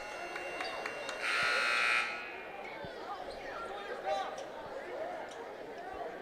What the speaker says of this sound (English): Looks like we had a stuck buzzer or something down there.